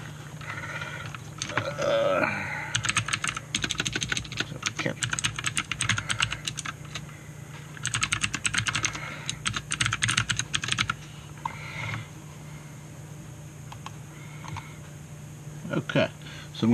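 Fingers typing an account name and password on a computer keyboard, rapid bursts of clicking keystrokes separated by short pauses, close by, with someone speaking at times.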